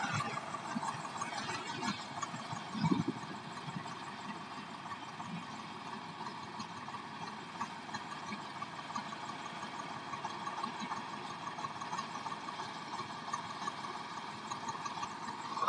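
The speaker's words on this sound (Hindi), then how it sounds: "बहुत ही प्यारी साउंड है ट्रैक्टर की" A 1997 Swaraj 735 FE 39 hp tractor engine runs steadily while irrigating a field, a continuous mid-pitched hum and rattle with a brief louder knock near the start, heard close and without talk.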